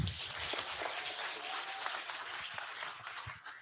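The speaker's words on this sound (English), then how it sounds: "A better clap than that." An audience at an evening address in a hotel venue claps in a scattered, moderately distant patter that thins out toward the end.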